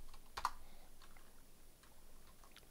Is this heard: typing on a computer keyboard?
yes